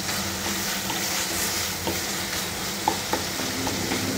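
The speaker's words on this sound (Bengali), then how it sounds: "তো একটু ভালোভাবে ফ্রাই করে নিচ্ছি যাতে করে সেন্ট বের হয়।" Dried loitta fish stir-fried in a pan makes a steady, close sizzle, with occasional soft scrapes and taps from the spatula.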